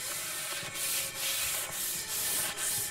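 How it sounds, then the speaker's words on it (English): Steady back-and-forth rasp of a large hard sanding block worked over a car body panel with guide coat, close and continuous with regular stroke rhythm, no talking. "So what I'm gonna do is use this large block."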